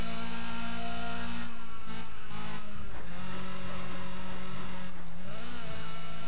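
A race car engine in Need for Speed ProStreet held at full throttle, a steady loud high-revving drone that dips and climbs again twice as gears shift, with no voices over it.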